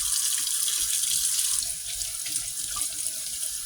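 Tap water runs steadily into a sink during a Cabbage Patch Kids doll's bath, a close, continuous hiss that drops slightly in volume partway through.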